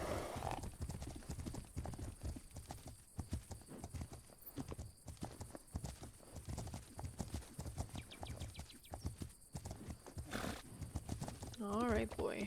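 Horse hooves clip-clop steadily in Legend of Khiimori, a rapid rhythmic clatter of footfalls at moderate volume, with a brief whinny near the end and a voice speaking over parts of it.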